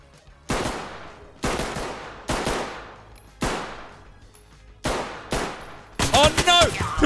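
Pistol fire in the tactical shooter game Ready or Not, six loud close shots at irregular spacing each with a ringing reverberant tail, followed by a burst of shouting voices.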